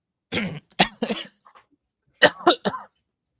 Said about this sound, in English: we're coughing directly into the mic